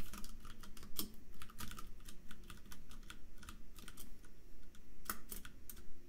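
A computer keyboard being tested key by key during game development work: a steady run of clicky presses at an irregular pace, close and clear, with no voices.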